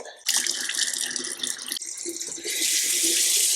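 Tap water runs into a sink while someone washes their face, a steady close splashing stream that shifts in tone partway through and grows brighter and fuller near the end.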